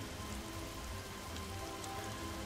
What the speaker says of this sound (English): I love that the rain is falling perfectly straight down